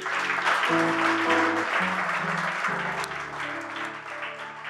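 A church congregation at a Sunday service claps and cheers together, a dense sustained wave of applause with voices and sustained musical tones underneath, gradually easing off.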